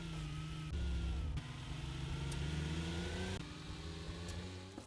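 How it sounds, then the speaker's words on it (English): Military Warthog vehicle engine in 7 Days to Die, a steady mid-pitched drone while driving, with gear-like shifts in pitch and a brief dip partway through, loud and continuous with no voices. "this is not the best vehicle, but it is kind of fun to drive around"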